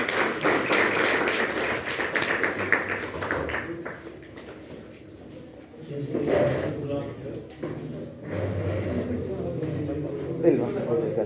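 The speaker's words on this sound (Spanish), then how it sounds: "un aplauso" Classmates in a medical class give a presentation a round of applause, a fairly close burst of clapping that fades after a few seconds, followed by voices talking.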